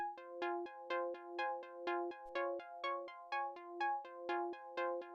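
A bright minimal techno synthesizer lead plays a steady repeating drone-like pattern of pulsing notes, evenly spaced and moderately loud, with nothing else underneath.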